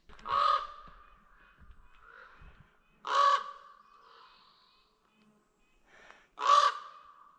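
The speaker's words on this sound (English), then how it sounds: "That's not a crow, that's a raven." Raven near a trout-fishing spot giving three loud, hoarse caws spaced a few seconds apart, each call standing out alone against a quiet outdoor background.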